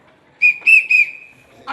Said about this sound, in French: Donne-moi un sifflet aussi.